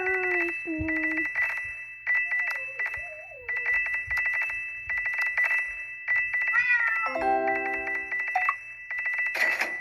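Cartoonish cat meows from the Cat Condo 2 video game repeat in short clear calls, some rising and bending, over a steady electronic tone with ticking game effects and a final bright chime.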